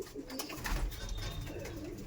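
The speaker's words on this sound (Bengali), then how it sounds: "আর অনেক ফিমেল পায়রা ডিম পেয়ে রেখে দিয়েছে," Madrasi pigeons, females among them, coo softly in a crowded loft, their low rolling calls overlapping continuously against a busy background of shuffling birds.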